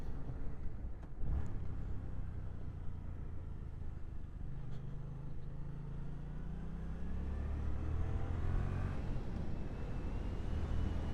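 Yamaha MT-07 motorcycle riding along a road, a steady engine drone with low rumble and shifting pitch as it accelerates, close and continuous throughout.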